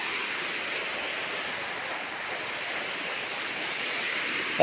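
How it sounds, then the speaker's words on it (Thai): Water pours hard over a small weir near a home on a foggy morning, making a steady, unbroken rushing hiss at an even level throughout. "เอฟซีก็ดูน้ำที่ฝ่ายตอนนี้นะ นี่ไหลแรงมากเลยนะครับ"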